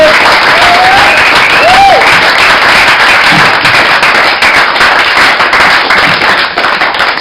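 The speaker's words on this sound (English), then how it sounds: "More applause, please." Loud, dense audience applause and clapping at the close of a Project ADORNO presentation, sustained and steady throughout, with a few faint whistles or cheers rising above the clatter before it eases slightly at the end.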